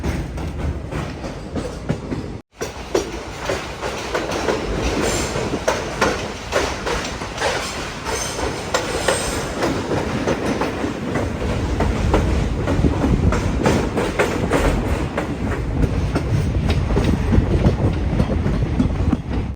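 Train arriving at Subrahmanya Road railway station, heard from on board, with a loud, continuous rumble and rhythmic clickety-clack of wheels over the rails, steady and close throughout.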